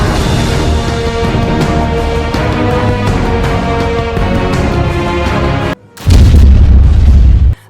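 A dense, loud, continuous roar of booming blasts and rumble in the video game Call of Duty, cut by a brief silence before an even heavier low explosion swells in.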